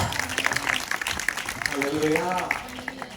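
A congregation claps at a church gathering, a dense, steady patter of many hands with voices talking over it throughout.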